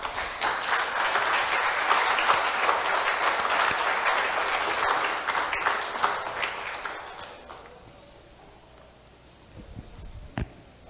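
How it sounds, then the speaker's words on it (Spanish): Church congregation applauding together, loud sustained clapping for about seven seconds that then fades away to quiet near the end. "Y dale un aplauso al Señor, por favor."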